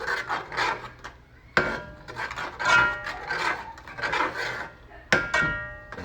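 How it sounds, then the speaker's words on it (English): A spoon scraping and stirring along the bottom of a pot of chicken, shrimp and sausage gumbo on medium heat, a steady rasping with a few sharp knocks, close and alone. "Make sure you scrape all that juice, that flavor at the bottom of the pot."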